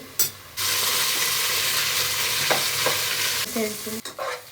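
Loud steady sizzling of golden-brown onions frying in a pan as mint is added, with scraping strokes of a spoon stirring through them and a few clinks near the end.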